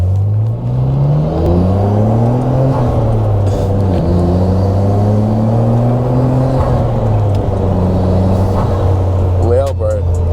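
Inside a Nissan Skyline R34 GTR with stock exhaust, a deep engine drone climbs and falls through repeated revs with turbo whir. The sound stays loud and steady throughout, with a faint voice near the end.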